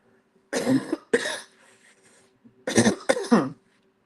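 Two pairs of harsh coughs, close and loud, separated by a short quiet pause with a faint hum in the background.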